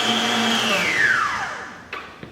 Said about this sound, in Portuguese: eu já vou colocar aqui na batedeira para bater o meu creme de leite fresco